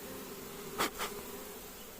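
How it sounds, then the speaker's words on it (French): A continuous buzz of swarming, fanning honey bees hums throughout, with two brief, louder passes of a bee close by in the middle. "Il y a énormément d'abeilles qui battent le rappel."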